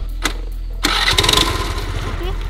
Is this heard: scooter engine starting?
yes